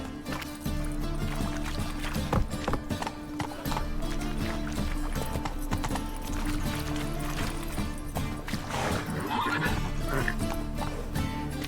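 Roach, the horse in the video game The Witcher 3, gallops with a steady, close, loud run of hoofbeats lasting the whole stretch, set over a continuous low droning game score, with a brief whinny-like flurry near the end.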